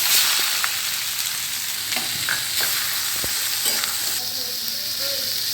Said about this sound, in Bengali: এবারে আমি পেঁয়াজগুলো দিয়ে দিচ্ছি।